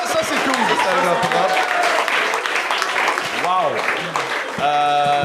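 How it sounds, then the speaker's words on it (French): Applause rises from a game show studio audience, a loud, dense clatter of clapping mixed with crowd chatter, laughter and a rising and falling sung or whooped voice near the end. "On peut l'applaudir parce que ça c'est cool."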